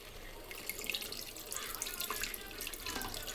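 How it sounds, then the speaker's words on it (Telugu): Tamarind juice poured into a cooking pot of cooked-down tomatoes for a Telugu-style leg curry, giving a steady, faint, continuous splashing stream for a few seconds that stops abruptly, with no voices. "ఇప్పుడు కొంచెం చింతపండు రసం పోదాం."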